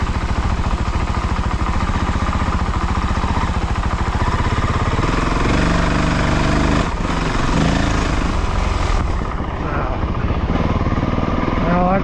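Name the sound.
Honda CRF450L motorcycle riding in third gear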